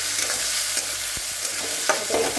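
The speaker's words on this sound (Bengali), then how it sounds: "এটা একটু ভালো করে ভাজা হবে, তারপর আমি অন্যগুলো দেবো" Crushed garlic and ginger fry in hot oil, giving a steady close sizzle broken by a few soft stirring scrapes, with no voices.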